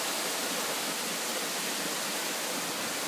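Winter Falls on the Trail of Ten Falls at Silver Falls State Park, Oregon, roars as a steady, loud, broadband rush of falling water, constant and unbroken with no voices.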